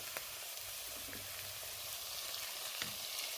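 Tomato sautés with translucent shallots in a pot, a steady close sizzle and crackle that holds without pause.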